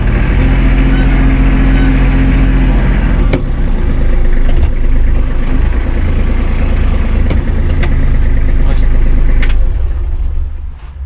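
Hinomoto NX 321 compact tractor with a semi-automatic gearbox drives along, its diesel engine a steady loud low drone throughout, with a few sharp clicks and knocks as gears change.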